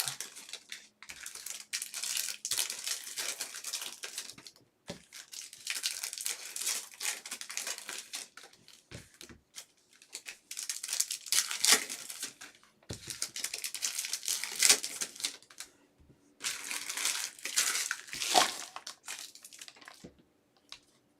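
Panini football trading card packs are torn open and handled, bursts of crinkling foil and paper ripping come in clusters separated by quiet gaps, close and fairly soft, with no speech.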